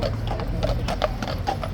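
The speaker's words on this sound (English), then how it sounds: "Police horses coming along behind us." Police horses walk along a street behind the listener, their hooves giving a steady, close, loud clip-clop rhythm with no voices over it.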